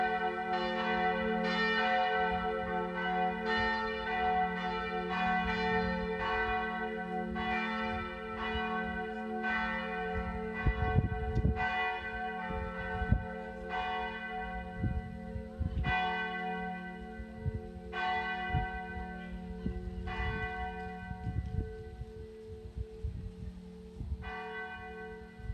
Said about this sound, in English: it's a lovely thing when you are ringing that bell